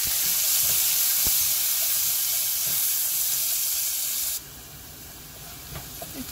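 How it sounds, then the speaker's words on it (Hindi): Onions sizzle with curry leaves in hot oil for Punjabi kadhi, a steady close frying hiss that drops abruptly to a quieter sizzle partway through, with faint clinks of stirring and no talking. "प्याज को थोड़ा हल्का सा ब्राउन करना है।"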